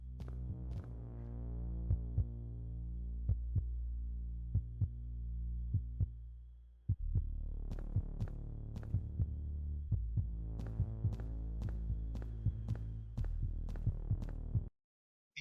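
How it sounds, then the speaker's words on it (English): A human heartbeat sound effect from a first-person shooter game throbs in a steady, close rhythm of soft thumps over a low hum, with a brief break partway through before the beating resumes. "and the human heartbeat."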